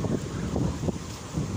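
Strong gusting wind at the sea near Hundred Islands roars into the microphone, with a low rumble like rough surf or a boat in the background.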